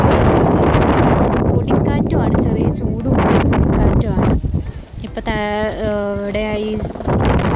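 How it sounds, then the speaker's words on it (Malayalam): Strong wind blows through King Abdullah Park, a steady loud buffeting rumble on the microphone throughout, with a brief tonal hum near the end and indistinct voices in the background. "ഭയങ്കര കാറ്റാണ് കേട്ടോ, പറന്നു പോകുന്നു"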